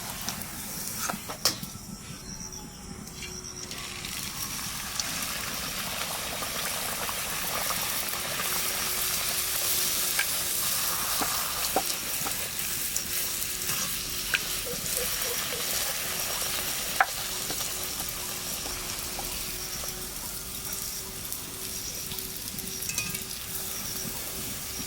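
Country chicken curry cooks in a pan on a rainy day, giving a steady close sizzle and frying hiss with occasional stirring clinks, continuous throughout with no talk.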